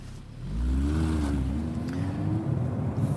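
Audi MK2 Type 4S naturally aspirated supercar engine revving, a close, loud low-pitched growl that rises and holds, with a deep rumbling undertone throughout.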